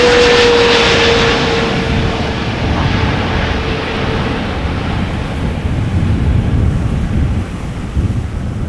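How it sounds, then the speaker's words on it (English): KLM Boeing 777-300 PH-BVC, a 15-year-old airliner, roars in on arrival from Lima, loud and near at first, then fading to a broad rumble under gusty wind noise on the microphone, with no talking. "KLM flight 744 arriving from Lima with Lima beans"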